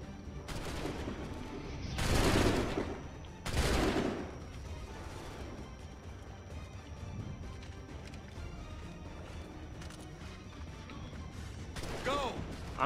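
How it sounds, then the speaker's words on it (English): Musket volleys crack out in an Assassin's Creed III battle, two heavy bursts of gunfire close together followed by scattered sporadic shots and another burst near the end, over game ambience and shouted voices. "I'm just shooting at random now."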